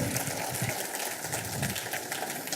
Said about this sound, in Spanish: dale un aplauso al Señor en este lugar y glorifica su nombre.